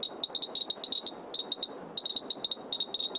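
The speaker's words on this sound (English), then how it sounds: "Now, normal background radiation sounds like this." Radiation detector clicking at normal background radiation levels, giving irregular, scattered sharp ticks in quick uneven clusters, fairly faint and alone.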